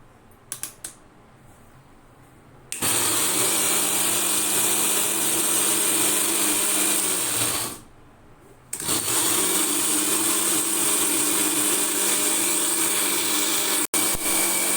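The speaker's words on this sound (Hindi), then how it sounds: "इस तरीके से चॉपर में डाल के चॉप कर लेना है, ग्राइंड कर लेना है बिल्कुल बारीक" An electric chopper whirs loudly as it grinds fennel seeds into fine powder, a steady high-pitched motor roar running in two long bursts with a short pause between them.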